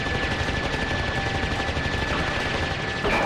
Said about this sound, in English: You can shoot down the missiles before they get to you.